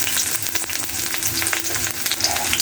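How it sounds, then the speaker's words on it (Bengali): Chopped onion hits hot oil in a pan, giving a steady, dense sizzle with crackling pops, close and continuous with no talk. "তেলটা গরম হলে আমি দিয়ে দেব পেঁয়াজ কুচি।"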